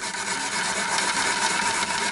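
Unpeeled yam, skin still on, is rubbed against a grater in a close, continuous rasping scrape lasting a couple of seconds.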